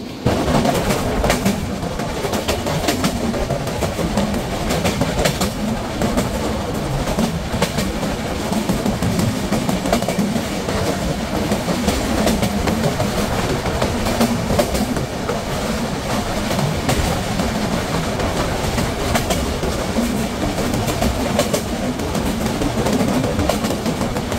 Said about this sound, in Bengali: আজকে আমি এই ট্রেনটিতে ভ্রমণ করছি শোভন চেয়ার শ্রেণীতে।